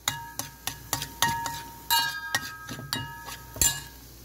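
Onions fry in a pan while being stirred constantly over raised heat, a spoon clinking sharply against the pan in an irregular series of close taps over a faint background sizzle.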